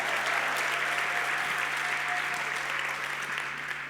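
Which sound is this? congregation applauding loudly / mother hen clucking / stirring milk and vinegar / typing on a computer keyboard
congregation applauding loudly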